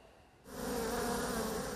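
Black honey bees buzzing around their beehives, a dense steady hum of many insects that swells up quickly from quieter surroundings and then holds loud and continuous, close by with no voices.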